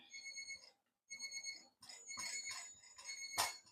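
A kitchen timer beeps while someone bakes strawberry treats, a fairly faint repeating electronic chirp in steady bursts with brief pauses and some background clatter.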